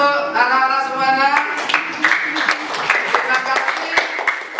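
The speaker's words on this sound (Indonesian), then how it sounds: "Tepuk tangan untuk anak-anak semuanya." Children in a classroom clap together in a brisk round of applause of scattered, rapid claps, following a spoken line and continuing to the end.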